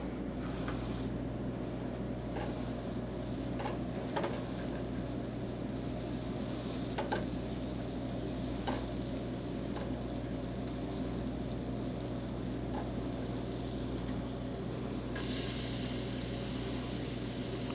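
Steady, close sizzling of chopped onion and garlic frying in a hot pan, with occasional stirring scrapes and a soft constant crackle throughout.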